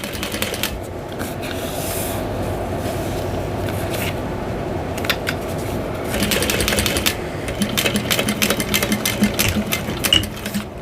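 A sewing machine stitches a bowler bag in quick bursts of rapid mechanical chatter, with short pauses between runs and a slightly busier stretch in the second half.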